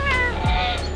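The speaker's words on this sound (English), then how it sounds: "Hello there, kitty kitty." A cat meows once, close and clear, a short rising-and-falling call outdoors near a pasture, with a steady low background hum around it.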